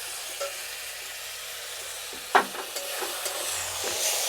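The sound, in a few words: stirring chili sauce into a frying flattened-rice breakfast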